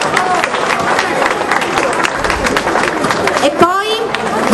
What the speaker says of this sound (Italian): Grazie service. Un applauso.